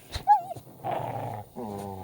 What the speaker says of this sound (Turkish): Hoş köpek.